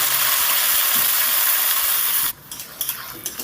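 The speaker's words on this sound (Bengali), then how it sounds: "এবার দিয়ে দেবো ভেন্ডিগুলো কাটা ভেন্ডিগুলোকে দিয়ে ভালো করে নেড়ে চেড়ে দেবো" Cut okra frying in mustard oil gives a loud, steady sizzling hiss while being stirred, then drops off sharply partway through, leaving quieter scrapes and clinks.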